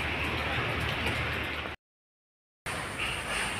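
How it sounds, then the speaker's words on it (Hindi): Steady rain falling at a zoo, a dense, even hiss that fills the clip, broken by a short total silence midway before the downpour resumes. "जैसे कि आप देख रहे हैं बारिश आ रही है"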